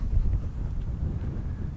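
Steady low wind on a mountain trail at Morrow Mountain State Park, North Carolina, buffets the microphone with a continuous rumbling roar and no voices.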